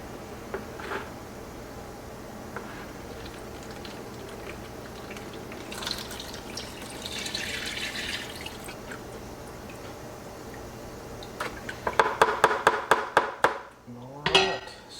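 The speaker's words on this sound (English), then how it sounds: "I'll pour this liquid into this small strainer, the very fine strainer" Pork bone broth poured through a very fine strainer: faint trickling and drips, then a quick run of light metallic taps and clinks near the end, close and fairly quiet.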